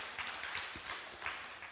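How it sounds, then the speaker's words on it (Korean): A church congregation applauds during a Sunday sermon, a faint, steady wash of clapping with no voices over it. "박수 한번."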